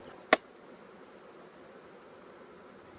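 Honey bees buzz faintly around a hive during a queen-rearing setup, a soft steady drone with one sharp knock near the start.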